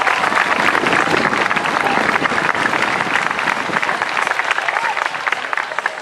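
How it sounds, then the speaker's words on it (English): Students and parents at a 2013 school opening day ceremony burst into loud, sustained applause, a dense continuous roar of many hands clapping with a faint crowd murmur underneath. "let's give ourselves a big round of applause"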